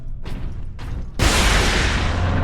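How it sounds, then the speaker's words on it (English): A missile launcher fires in the Warhammer 40K Space Marine video game: two short whooshing pulses, then a sudden loud blast that rolls straight into a sustained roaring rush until the end. "Missile launcher."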